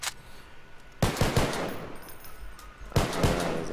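SKS rifle gunfire in a role-play shooter game: two loud, sharp bursts of shots about two seconds apart, each followed by a ringing tail and echo, with no talk over them.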